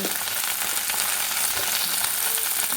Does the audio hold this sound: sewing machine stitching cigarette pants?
no